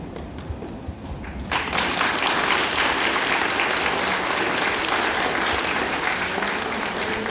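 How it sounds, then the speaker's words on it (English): An audience at an elementary school graduation ceremony bursts into sustained applause for the graduates' parents, guardians, friends and family. Dense clapping from a crowd starts after a brief quieter moment and continues steadily to the end. "give your parents, guardians, friends, and family an applause"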